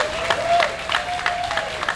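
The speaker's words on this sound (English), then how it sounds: "that's worthy of a round of applause for the parents and for the kids" A crowd at a community kickoff event in Little Manila applauds with a dense, steady patter of clapping, a faint sustained tone running underneath.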